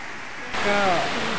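A waterfall at Harishankar in Balangir, Odisha: a steady broadband rush of falling water swells in after about half a second and continues loudly, with a faint voice-like tone drifting over it.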